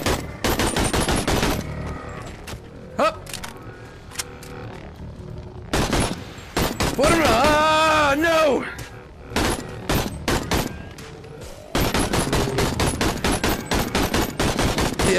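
A Kalashnikov rifle fires in the VR game BoneLab in loud, close automatic bursts, with short pauses between stretches of rapid shots and some talking mixed in.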